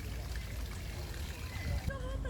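Water flowing beneath a small footbridge gives a steady, broad rushing trickle that holds evenly throughout, with a voice briefly rising over it near the end.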